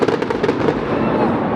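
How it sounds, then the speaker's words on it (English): Fireworks exploding over Las Vegas at night, a quick run of sharp crackling pops up front followed by a rumbling, echoing tail, fairly loud and close. "That's fireworks, by the way"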